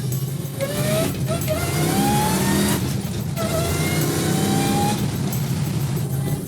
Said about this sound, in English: there's the supercharger kicking in